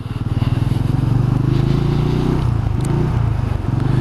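A Benelli 400 Imperiale motorcycle, 2020 model, rumbles through traffic with a loud, close, steady low engine thrum. Its pitch rises and dips slightly as it rides along, with faint road noise underneath.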